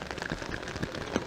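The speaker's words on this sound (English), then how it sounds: "the rain is really hitting hard on the stands above us" Heavy rain drums hard on the stadium stand roof above a women's rugby match, a dense, steady patter close overhead with no talk in this short stretch.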